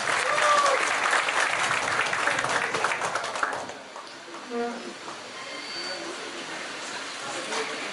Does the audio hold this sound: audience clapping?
yes